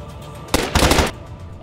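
Gunfire in the video game DayZ: a loud, close burst of rapid shots lasting about half a second, with faint background game ambience before and after.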